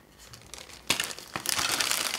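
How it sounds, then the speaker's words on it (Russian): Small plastic bags from a Tumbling Robot construction kit crinkle and rustle as they are handled and opened, a close, bright crackling that grows busier toward the end. "Давайте откроем пакетики и начнем сборку."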